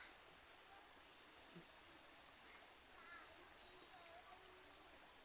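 Night-time countryside ambience by farm and garden land, with soft steady water flow and a continuous insect and frog chorus, faint and even throughout, with no voices.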